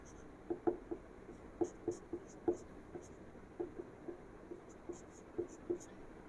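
A pen draws small figures on paper for a pictogram, giving a series of faint, close, short scratchy strokes in an irregular rhythm, about a dozen in a row against a quiet room, with no talking.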